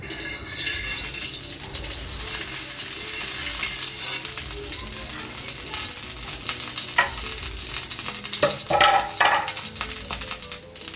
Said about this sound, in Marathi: आणि हा पराठा छान असा भाजून घेऊया